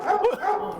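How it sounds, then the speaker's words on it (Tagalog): A dog barks and yips in a short burst of a few close, fairly loud calls, with people talking in the surrounding moments. "Tahol-tahol pa."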